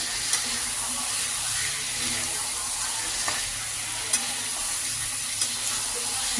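Pre-fried chicken pieces cooking in a spicy masala for chicken kosha, with a constant close sizzle and a few soft stirring scrapes, no talking.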